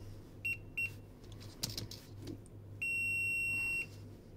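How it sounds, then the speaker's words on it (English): A GX590 spot welder's electronic buzzer beeps twice in short bursts, then gives one long sustained tone, with a brief click between, over a low steady hum. "the buzzer sounds on the device."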